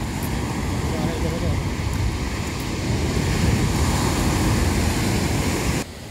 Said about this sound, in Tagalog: Ang sarap nga ng hangin at dinig na dinig mo ang hampas ng alon